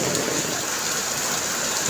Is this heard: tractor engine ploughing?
no